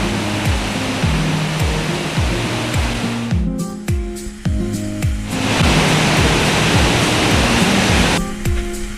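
Josephine Falls, a waterfall in tropical Australia, sends up a loud, dense rush of water. Low rhythmic buffeting runs beneath it, and the roar thins out for a couple of seconds partway through.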